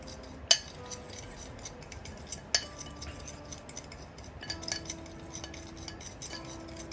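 Salt is mixed into a homemade rub for baby back ribs, heard as a few sharp metallic clinks of a utensil against a bowl amid quiet, faint stirring rustle.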